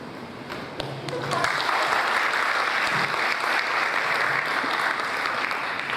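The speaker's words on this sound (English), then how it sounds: "I appreciate the polite applause." Polite audience applause at a school board referendum town hall meeting, rising after a brief quiet start and holding as steady, dense clapping from a seated crowd for several seconds.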